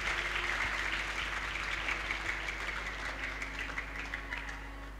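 Students at a Ramadan boarding-school class give a round of applause. The clapping is moderate and fairly distant, with a constant low hum beneath it, and it thins out gradually.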